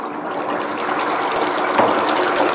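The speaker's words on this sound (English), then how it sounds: "when you put cold water in oil, it makes a mess and it's kind of dangerous" Cold water hits 380-degree deep-frying oil, producing a loud, continuous sizzling hiss and crackling splatter that holds steady for about two and a half seconds.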